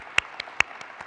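Scattered audience applause at a conference opening session, a few sharp claps spaced out over a second, fairly faint and thin rather than a full ovation, with no talking.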